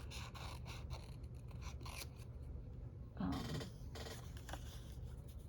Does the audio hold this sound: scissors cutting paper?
yes